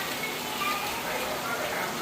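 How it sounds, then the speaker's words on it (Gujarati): Heavy rain pours down at night in a village, a steady broadband hiss of drops on surfaces filling the whole stretch at constant loudness, with no voices breaking through. "7:30 વાગે ફૂલ જોરદાર વરસાદ ચાલુ થયો"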